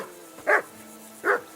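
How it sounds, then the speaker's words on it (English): Henry's dog Mutt in the medieval game Kingdom Come Deliverance 2 gives two loud, close single barks about three-quarters of a second apart, with a low hum underneath. "That dog of yours is barking like the devil."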